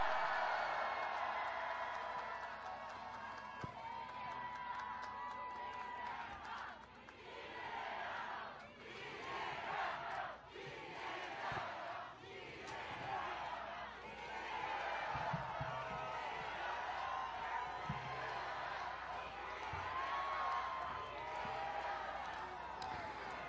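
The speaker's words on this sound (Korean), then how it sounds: "뜨거운 함성 부탁드리겠습니다." A large crowd at an outdoor political campaign rally in Eunpyeong, Seoul, roars and cheers continuously, with shouting voices surging and dipping in a dense, sustained wall of noise.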